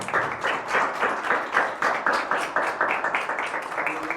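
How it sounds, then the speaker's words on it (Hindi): A church congregation at a Sunday service claps in a steady rhythmic beat, loud and close, with a faint voice underneath. "यीशु मसीह के लिए जोरदार तालियां बजाएं।"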